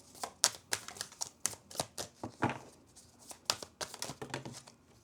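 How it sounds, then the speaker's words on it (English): A deck of tarot-style reading cards is shuffled by hand close up, producing a rapid series of crisp riffling snaps and papery slaps in uneven bursts, with no talking. "sometimes when I'm shuffling, a lot of cards jump out at the same time"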